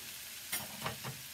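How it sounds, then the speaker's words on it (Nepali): A spoon stirs egg and potato curry with tomato in a pan over low heat, giving a soft sizzle and a few short scraping strokes in a brief close take. "फेरि एकैछिन चलाउनु पर्छ"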